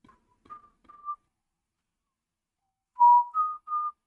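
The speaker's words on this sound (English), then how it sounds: "I do whistle" A person whistles short tonal phrases, a few quick notes, then a pause, then a louder clear three-note phrase, close and alone in a quiet room.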